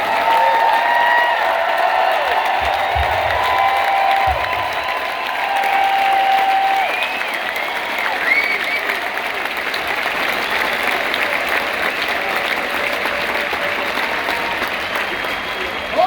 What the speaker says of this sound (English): please join me in a loud round of applause for the men and women that keep us safe